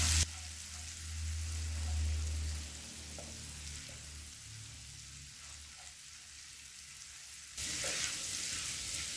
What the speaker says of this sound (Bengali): লো ফ্লেমে মশলাটা এবার 1 মিনিট সময় ধরে কষিয়ে নেব